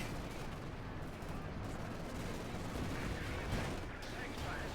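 Company of Heroes 2 battle with tank shots glancing off a Panther's frontal armor, a dense continuous din of gunfire and artillery booms, loud and sustained throughout with a voice talking underneath.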